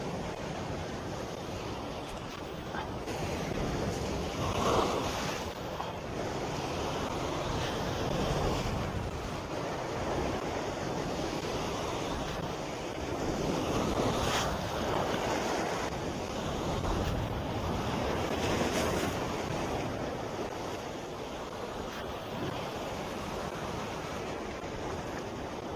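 Ocean waves at a seaside fishing spot in Basco, Batanes, heard as a continuous surging wash of surf that swells and recedes, mixed with wind buffeting the microphone and no voices.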